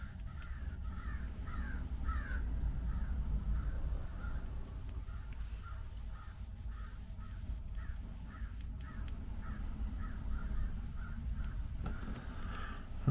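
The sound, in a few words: crow cawing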